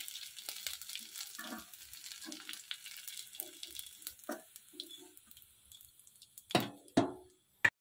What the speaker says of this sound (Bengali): এটা এখন তেলের উপর একটু ভেজে নেব